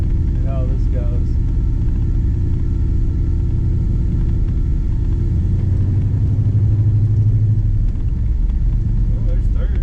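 A 1954 Chevy Bel-Air with an LS swap engine drives along with a continuous deep, loud rumble heard from inside the car, while someone talks over it.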